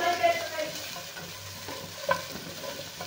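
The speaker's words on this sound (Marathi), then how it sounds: "सगळे मसाले आपण एकत्र भाजून घेणार आहे।" Spices, tomatoes, ginger and garlic sizzle and fry steadily together in a kadhai, with scraping stirring strokes and an occasional sharper clack, close by and without talk.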